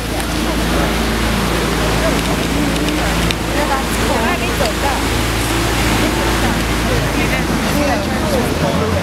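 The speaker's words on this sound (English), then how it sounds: "So we got a big waterfall on the right." A big waterfall on a river, heard from a boat as a loud, constant rushing roar of falling water with engine and wind rumble underneath, steady throughout.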